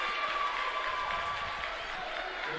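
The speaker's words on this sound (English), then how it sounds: "I think we might have some battling fans down there in terms of cheering" Basketball fans cheer and applaud in a high school gym during a timeout of a boys game between East Chicago Central and Lake Central, a steady, diffuse crowd roar with scattered clapping throughout.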